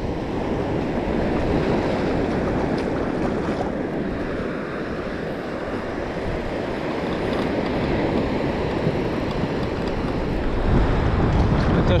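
Ocean surf breaking on a Gulf of Mexico beach, a steady, loud wash of rolling waves with heavy wind buffeting the microphone throughout, swelling slightly near the end.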